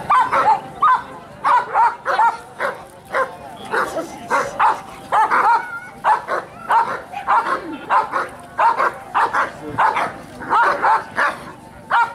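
Dogs bark repeatedly in short bursts during a protection-work demonstration in Bulgaria, loud and near, with yips and whimpers mixed in and people talking between the barks.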